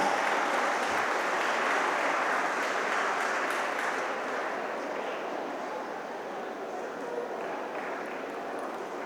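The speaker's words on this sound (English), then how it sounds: "Friends, you may applaud." Broad, dense applause from a large crowd at an inauguration ceremony, a continuous wash of clapping that holds steady and eases slightly toward the end.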